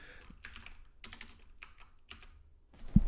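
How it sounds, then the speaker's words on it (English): Close keyboard typing, clusters of sharp key clicks in quick uneven bursts for about three seconds, ending with a louder thump as something is handled nearby. "I can type this."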